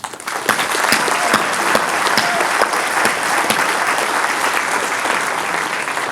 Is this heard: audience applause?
yes